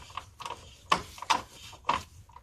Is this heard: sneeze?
no